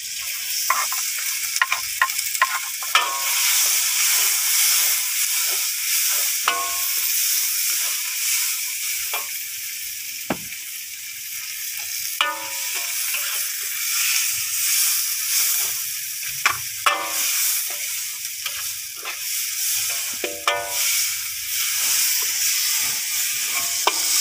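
Chili peppers sizzle steadily in a hot frying pan as they are added for a shrimp and fern stir-fry with shrimp paste, a continuous bright hiss with occasional scraping clicks of stirring, close and loud, no talking.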